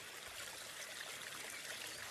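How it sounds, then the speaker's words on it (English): Water trickles steadily in a garden pond water feature at a Dorset country property, a soft, continuous splashing flow heard alone and fairly faint. "There it is, the pond. Your water feature."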